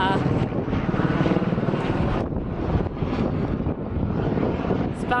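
A helicopter at an airport before takeoff, its engine and rotor a steady loud broadband rumble with strong wind buffeting the microphone throughout.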